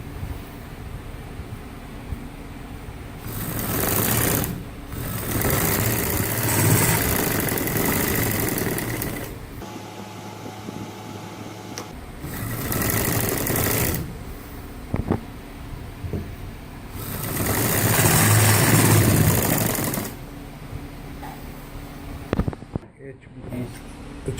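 A sewing machine stitches the sleeves onto a gents shirt in bursts of steady mechanical whirring, with pauses and quieter stretches in between, close and fairly loud.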